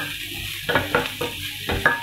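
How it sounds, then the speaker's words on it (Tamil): Chopped vegetables being stirred in a frying pan, with several distinct scraping strokes against a low background sizzle, close and fairly quiet. "ஆட் பண்ணிவிட்டு இது எல்லாத்தையும் மிக்ஸ் பண்ணிக்கலாம்."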